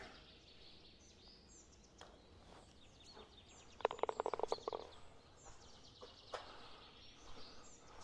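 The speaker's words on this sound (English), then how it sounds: "Hopefully the bird chirping noises aren't too terribly loud." Birds chirp faintly in a quiet garage golf-simulator setting, with a short rapid run of clear high chirps in the middle and scattered softer calls around it over a low background hiss.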